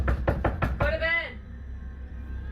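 Four sharp knocks on a door sound in quick succession from a played recording of a supposed mimic spirit, followed by a brief voice and a low steady room hum.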